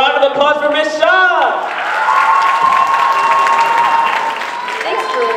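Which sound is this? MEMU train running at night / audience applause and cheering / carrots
audience applause and cheering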